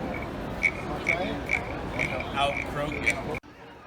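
Repeated croaking calls in an even rhythm, roughly two per second, loud and close, produced by a handheld frog-shaped noisemaker before cutting off abruptly.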